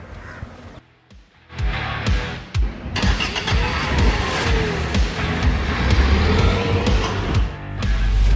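Nissan Magnite CVT compact SUV on a drive, starting quiet and then a loud steady engine and road rumble filling the cabin, with faint bird caws outside.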